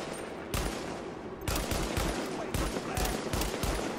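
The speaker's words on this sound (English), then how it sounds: "This gun is a high-powered marksman rifle," Rifle shots from a high-powered marksman rifle in The Division video game, several loud sharp reports at uneven intervals, each with a booming tail over steady game ambience.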